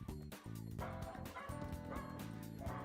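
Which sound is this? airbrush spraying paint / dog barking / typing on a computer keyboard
dog barking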